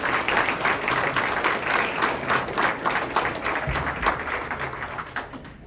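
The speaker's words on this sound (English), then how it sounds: "Let's give him a round of applause." A church congregation applauds during a Sunday afternoon Thanksgiving service, with loud, continuous clapping sustained at an even level throughout.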